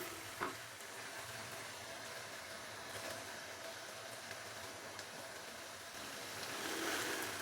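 Chicken and taro fry with spices in a pan, giving a steady, close sizzle that holds evenly throughout, with a few brief clinks and a slight swell near the end.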